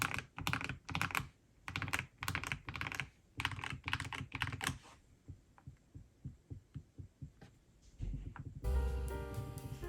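Clacky mechanical keyboard typing in fast, uneven bursts, close and clear, followed by slower individual keystrokes and then a steady hum with some tapping at the end.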